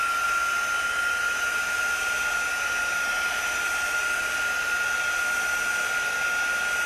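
A hair dryer or heat tool blows on chalk paste over a wooden piece, a continuous even whir with a high tonal whine, close and unbroken throughout.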